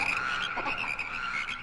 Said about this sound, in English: Then the land filled with frogs.